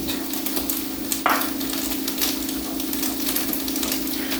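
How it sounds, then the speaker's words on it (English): Cornbread batter with milk and eggs being stirred in a bowl, a steady soft scraping and swishing under a constant low hum, with one brief louder knock partway through. "And you just want to mix that"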